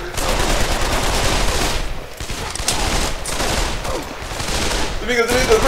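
Dense, continuous gunfire in the VR shooter Pavlov, with overlapping loud shots and bursts filling the whole stretch, dipping briefly at moments between volleys, with loud game noise throughout.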